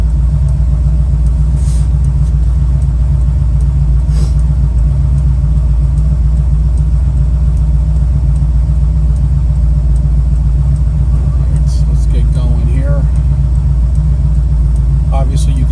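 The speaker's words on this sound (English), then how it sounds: "You can also drop this down to first gear and shift into second and then into third." A 1981 Chevrolet Camaro engine rumbles loudly and steadily up close, with a brief rising rev near the end, while someone talks over it.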